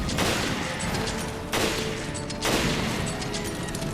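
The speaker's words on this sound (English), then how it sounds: "And then just keep on shooting them." Gunfire in Resident Evil Revelations Raid Mode: three sharp, loud shots spaced roughly a second apart, each with a noisy decaying tail over faint game ambience.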